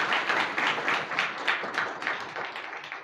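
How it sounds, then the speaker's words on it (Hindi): A church congregation at a Sunday service claps together in a steady, rhythmic beat, a full room of hands striking in unison at a lively pace throughout. "ताली बजा करके परमेश्वर को धन्यवाद।"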